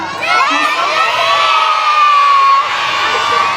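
A crowd of children at a live show shout together loudly and continuously, their voices blending into one sustained, excited call with no pauses.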